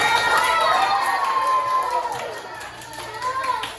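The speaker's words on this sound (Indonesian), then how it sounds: "tepuk tangan dulu semuanya" Schoolchildren in an elementary math classroom clap together while voices talk and shout over them, lively and close, fading somewhat toward the end.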